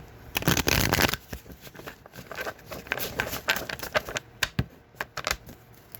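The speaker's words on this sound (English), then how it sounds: "One more shuffle, please" Crisp rapid riffling of tarot cards being shuffled, a dense burst early on followed by scattered softer flicks and taps, close and quiet.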